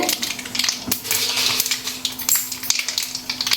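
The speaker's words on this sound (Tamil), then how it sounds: "கடுகு வந்து பொரியுது" Mustard seeds splutter and crackle in hot sesame oil in a pan, a dense, steady sizzle of tiny pops that runs the whole time at close range, with no voices.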